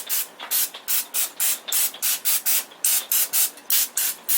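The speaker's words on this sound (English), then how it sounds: "Next, spray it with olive oil spray." Rapid bursts of olive oil aerosol cooking spray, about fifteen short hissing pumps in quick rhythmic succession, close and loud.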